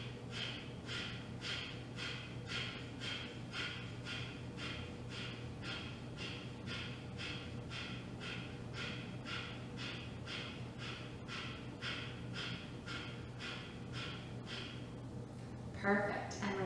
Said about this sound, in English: Big deep breath in and forceful exhales.